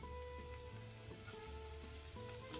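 Carrot, blanched baby corn and zucchini hit a hot pan and fry with a steady, soft sizzle, with faint stirring clicks and a low background hum throughout.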